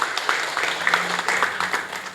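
An audience at an entrepreneurship seminar in Bekasi claps steadily throughout, a dense, even patter of many hands, moderately loud and continuous.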